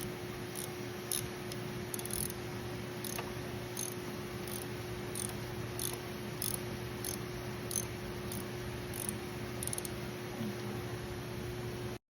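A thread tap turned by hand cuts fresh threads in an LS aluminum engine block, producing faint, regular scraping ticks in a steady rhythm above a constant low hum, close and quiet, with no speech.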